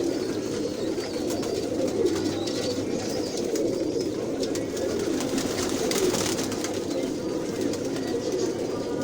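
A female Rampuri pigeon coos in low, rolling murmurs, with a steady chorus of other pigeons cooing close by throughout and faint rustling above.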